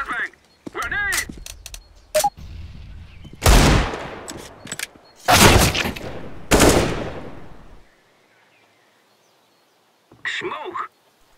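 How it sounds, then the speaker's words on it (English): Counter-Strike match with loud broadband bursts of gunfire and grenade blasts in clusters, several sharp shots early, then three heavy wide bursts mid-clip, a quiet stretch, and one last burst near the end. "I am throwing a flashbang! Grenade!"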